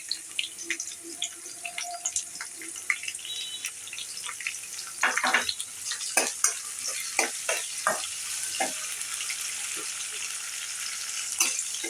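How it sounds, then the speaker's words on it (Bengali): Shrimp fry lightly with onions in a pan, part of a pumpkin and shrimp dish, producing a soft sizzle broken by clustered scraping and clattering stir strokes, with some watery spattering. "আমি পেঁয়াজের সাথে হালকা করে চিংড়ি মাছটা ভেজে নিব।"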